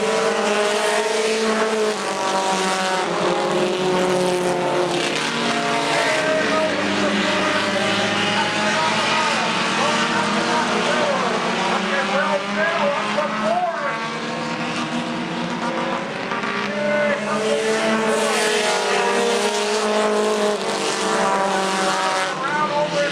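Race cars roar around an oval track at a Thursday Night Thunder event, a dense, sustained engine howl with rising and falling pitch as cars pass, loud and continuous throughout.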